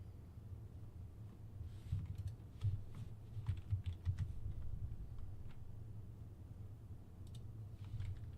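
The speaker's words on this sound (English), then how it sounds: "We're just gonna type stuff in." Steady typing on a computer keyboard, a run of close, quick key clicks with brief pauses over a low background hum, no one speaking.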